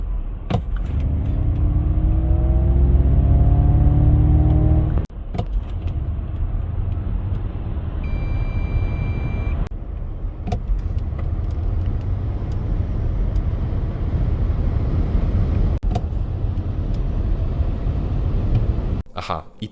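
A Ford Mustang Mach-E GT electric car accelerates hard with a rising synthetic drive tone over steady road rumble, loud and close, with a brief electronic beep partway through.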